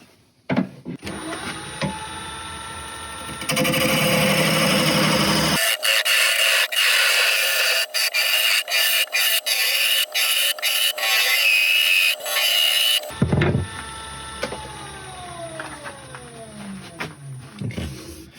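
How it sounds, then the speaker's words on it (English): A ball gouge cuts oak wood spinning on a lathe for shot glasses: a loud, steady whirring roar of the turning piece, with a rapid series of sharp cutting scrapes through the middle before the motor hum winds down. "I'll do that with a normal ball gouge."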